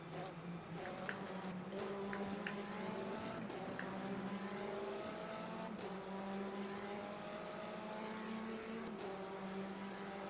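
Race car engines in the Le Mans Ultimate racing game, a steady droning whine of motors at speed with shifting pitch, loud and continuous throughout, a faint voice briefly audible beneath.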